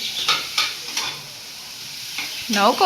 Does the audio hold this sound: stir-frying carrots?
yes